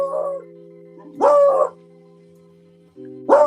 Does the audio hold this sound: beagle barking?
yes